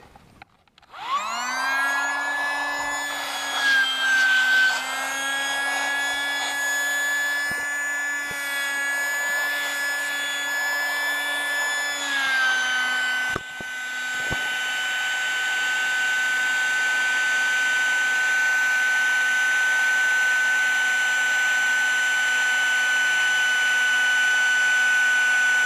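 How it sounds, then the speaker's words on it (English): A rechargeable pump inflating a fishing raft starts with a loud steady motor whine and drone that shifts slightly in tone partway through as air pressure builds, running continuously up close. "I went ahead and I got myself a rechargeable pump. That thing airs this raft up so fast."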